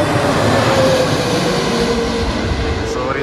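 An Aer Lingus airliner approaches near London Heathrow with a loud, steady roaring engine wash and a faint whining tone throughout.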